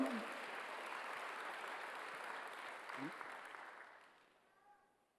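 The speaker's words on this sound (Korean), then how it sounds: "박수 한번 주세요." A church congregation applauds during a Sunday worship service, a steady wash of clapping held for several seconds, then thinning and fading out near the end.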